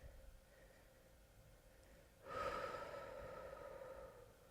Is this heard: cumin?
no